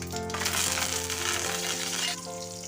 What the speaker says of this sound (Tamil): கடுகு நல்லா பொரிஞ்சதும் இதில் ஒரு கொத்து கருவேப்பிலை சேர்த்துக்கலாம்.